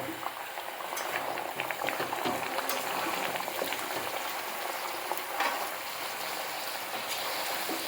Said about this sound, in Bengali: গরম তেলে লুচি একদম ফুলকো লুচির মতন ফুলে গেল।